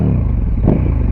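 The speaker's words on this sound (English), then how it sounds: "And then you can still hear the exhaust as well." A KTM 1290 motorcycle fitted with an Akrapovic slip-on exhaust runs with a steady, loud, deep engine drone and a brief swell partway through, with no voices.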